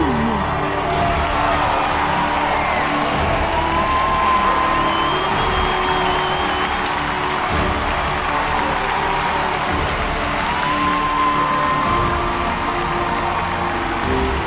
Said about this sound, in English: Let that applause not stop, ladies and gentlemen.